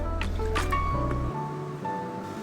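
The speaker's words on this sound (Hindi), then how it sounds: "अब हम एक कढ़ाई ले लेंगे और फ्लेम ऑन कर देंगे और इसके अंदर ऑयल डाल देंगे" Cooking oil poured into a karahi over a lit flame, a short wet glugging splash with drips, close and brief, with a low hum underneath.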